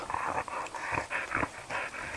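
A dog growling and grumbling in low, rough pulses, close and fairly loud, with short whimpering rises between the rumbles.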